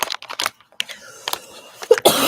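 Several sharp coughs from a woman reading aloud, bursting in an irregular cluster close to the microphone, with a brief noisy sound at the end.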